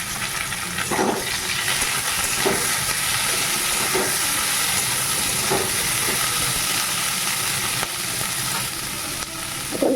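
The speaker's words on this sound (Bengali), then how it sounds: "আলুটা একটু লাল করে ভাজা হোক তারপরে মশলা দেবো পেঁয়াজটা দিয়ে দিচ্ছি" Potatoes and onion frying in a pan, a steady dense sizzle with hissing steam and a few soft stirring scrapes at intervals.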